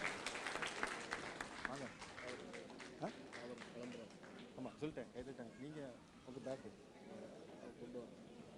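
Audience applause in a hall, a dense wash of clapping that carries on steadily throughout, with voices talking over it.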